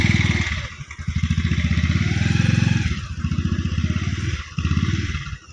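A motorcycle rides along a road with a steady, close engine drone and a fast, rhythmic pulsing, joined by a faint rattle and clatter throughout.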